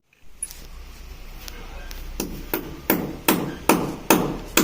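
A hammer drives clamps onto plumbing pipe fittings during a hotel plumbing job, with about eight sharp, evenly spaced strikes that grow louder and more forceful over a low background hum.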